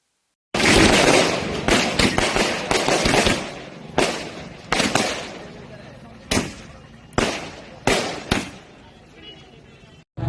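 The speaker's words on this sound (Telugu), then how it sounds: "ఈ చర్యపై స్థానికులు హర్షం వ్యక్తం చేస్తూ టపాసులు కాల్చుకొని సంబరాలు జరుపుకున్నారు." Celebration firecrackers set off by local residents: a rapid string of loud, close bangs that then slows to separate blasts, each followed by a short echoing decay.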